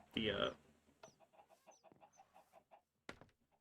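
Minecraft chickens give a burst of clucking at the start, then a run of soft, quick clucks and chirps with a final sharper cluck, all faint and close with no one talking.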